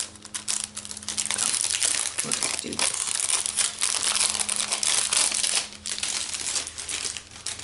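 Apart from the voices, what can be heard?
plastic bag crinkling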